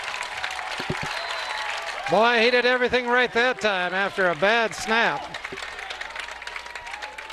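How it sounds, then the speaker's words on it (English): Nekoosa home crowd at a high school football game against Poynette applauding a punt, a loud swell of clapping and cheers lasting about three seconds while commentators talk over it. "And the Nekoosa crowd very appreciative"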